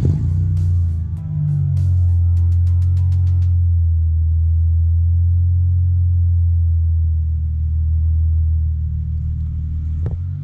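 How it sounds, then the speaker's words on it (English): Acura CL Type S with a cat delete exhaust cold-starts: a starter whir and catch, then a loud, deep, bassy idle rumble that holds steady and close, with no talking. "we're gonna go for a little cold start on Alan's car with the new cat delete"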